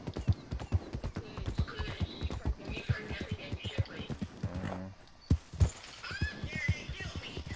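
Quick, rhythmic hoofbeats of a horse in a video game clatter nearby, broken by a whinny midway, then the galloping resumes.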